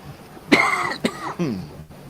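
A single sharp cough bursts out close to the mic during a quiet pause on a radio show set, followed by a second shorter cough and a brief throat-clearing rasp, with no talking.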